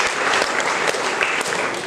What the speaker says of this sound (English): Let's give a big clap for these cross bearers.